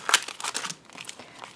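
Foil planner-sticker packaging crinkling as it is handled, a short, close, fairly soft rustle with one sharper crackle near the start and lighter crinkles trailing off.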